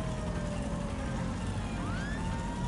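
Near and fairly loud, the malfunctioning siren of a police cruiser in Grand Theft Auto V gives wavering tones with a quick upward sweep, over a low continuous rumble of driving.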